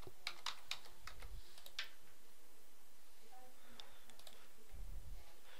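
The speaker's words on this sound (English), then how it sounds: "I'm just going to hold Control on the keyboard and press C just for copy" Computer keyboard keys are pressed in a few quick clicks, then a short pause and more taps, faint and close against a quiet room background.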